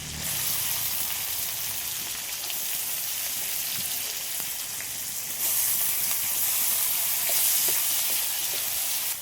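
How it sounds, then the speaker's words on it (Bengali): Chopped onions frying in hot oil seasoned with cardamom, cloves, cinnamon and cumin for a prawn malai curry, giving a steady close sizzle and crackle that swells louder partway through, with no talking. "ফোড়নটা তো করে নিলাম, এবার পেঁয়াজ কুচি দিয়ে দিচ্ছি।"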